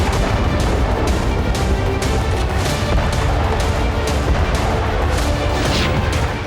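Explosions from an Israeli strike on the General Staff building in Damascus: a loud, dense run of booming blasts and crashes repeating roughly every half second over a continuous roar of noise.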